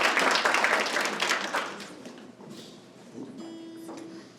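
Applause from an open mic night audience fills the first two seconds, then thins and fades; a single sustained instrument tone follows near the end.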